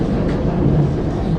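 Bombardier AGC regional train on the Nîmes–Arles line in France, heard as a steady, loud, low interior rumble of motor and running noise with no distinct changes, alone without talk.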